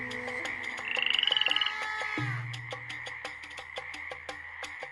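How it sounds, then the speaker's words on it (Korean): Frogs croaking in a rhythmic, repeated chorus with a stylized cartoon quality, layered with a rising trill and steady pulsing calls, moderately loud and close with no talking. "하나님은 개구리를 보내셨어요."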